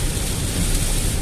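Heavy rain pounding on a car during a driving lesson, a continuous thick hiss, close and even.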